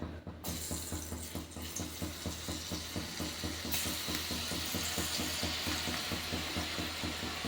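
Onion bajji fritters fry in hot oil on high flame with a steady bubbling sizzle. Rapid rhythmic crackles carry through continuously at moderate loudness, close by.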